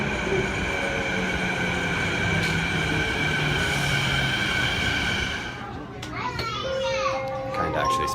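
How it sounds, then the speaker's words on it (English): Children chatter and play aboard a crowded passenger train from the airport, their voices mixing with the steady rumble of the rail car, with squealing tones and clattering toward the end. "So there's a lot of kids in here."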